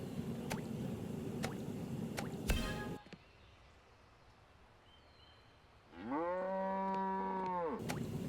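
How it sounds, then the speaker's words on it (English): A cow lets out one long, loud, drawn-out moo in the Painting Simulator video game, rising and falling over about two seconds after a stretch of quiet ambience and some earlier splashy dripping sounds. "This cow is throwing a fit."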